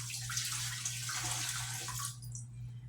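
About four cups of distilled water pour steadily into a pressure canner being set up for collard greens: a close, continuous splashing rush lasting roughly two seconds, then tapering into quieter trickles.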